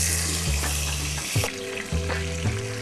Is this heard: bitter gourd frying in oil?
yes